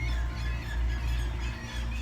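Seabirds squawk and squeal around a rusted shipwreck hull, harsh repeated cries over a dense, loud wash of wind and surf with no pause.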